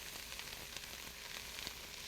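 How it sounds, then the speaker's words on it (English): Vegetables sizzle steadily in a hot pan while being stirred for beef tips, a continuous soft frying hiss with faint scraping pulses throughout. "Keep that stirring for a little while, a minute or two really, so you can get the vegetables to start sizzling."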